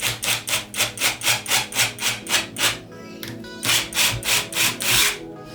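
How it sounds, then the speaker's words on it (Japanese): A power driver running a screw into wood while building a DIY router circle-cutting jig, a rhythmic series of close, loud grinding pulses, a brief pause, then more bursts as the screw seats. "ここにビスを打っていきます"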